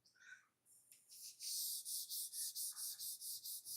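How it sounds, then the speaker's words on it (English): Sandpaper on a sanding block is worked over a surface in even, repeated back-and-forth strokes, a soft, rhythmic scratchy rasp after a few scattered rubs, about nine close, faint strokes alone. "You're going to listen to your sandpaper while you're blocking."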